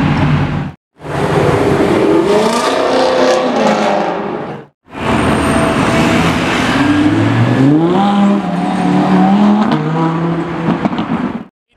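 A Ferrari 812 GTS V12 convertible screams past at full throttle, loud and close, with rising, sweeping engine pitch through several gear changes after a short quiet gap, mixed with other traffic noise.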